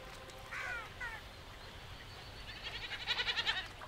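Feral goats by a flooded river bleat in short wavering cries, first a couple of isolated calls, then a louder rapid run of pulsing bleats near the end, set against faint outdoor ambience.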